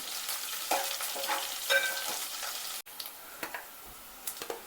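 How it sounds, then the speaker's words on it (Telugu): Onions fry in oil toward golden brown for a brinjal curry, a close, steady crackling sizzle broken by light clicks of a spoon stirring the pan, with a brief drop near the middle and no talk. "ఆనియన్స్ మనకి కొంచెం గోల్డెన్ కలర్లో వచ్చిన దాకా ఫ్రై చేసుకోవాలి నీట్గా"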